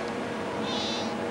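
A pet cat meows once, a drawn-out, fairly clear call heard close by with no talking over it.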